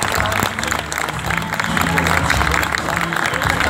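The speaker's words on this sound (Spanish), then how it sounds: "Fuerte el aplauso para ellos." Audience applause fills a theatre festival hall, a steady dense wash of clapping from a crowd, with a voice faintly audible underneath.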